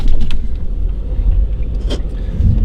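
A front-wheel-drive Honda Civic drives through snow, giving a steady, close rumble of engine and tyres with a brief higher whoosh partway through. No one speaks.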